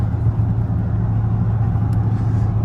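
A straight-piped Dodge Charger R/T drives on the highway, its exhaust making a loud, steady low drone and rumble that holds without a break and has no voices over it.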